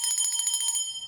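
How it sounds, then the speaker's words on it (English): A small bell is rung once, a bright, clear ring that lingers briefly and then fades out, heard alone and close by. "I rang the bell,"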